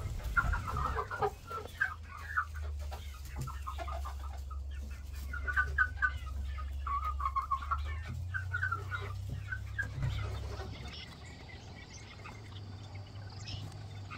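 Chickens clucking softly and continuously as they crowd onto the ramp into the coop in the evening, low steady farmyard hum underneath, moderately quiet and close.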